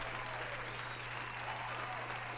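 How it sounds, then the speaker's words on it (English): Studio applause track from an audience for the winner of a game-music quiz on a gaming news show, steady and even for a couple of seconds with no break, a constant low hum underneath. "Everybody deserves a round of applause for winning Name That Game Tune."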